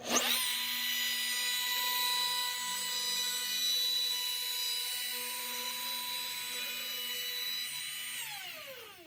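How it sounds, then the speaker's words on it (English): A power router cutting wood whines steadily at high pitch for several seconds, a loud continuous tool drone that winds down near the end. "Turn the router on."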